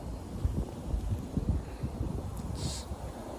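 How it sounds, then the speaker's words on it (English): Steady low rumbling wind buffets the microphone throughout in a country park, with gusty bursts and a faint brief hiss near the end. "Beautiful weather, but you can see it's windy."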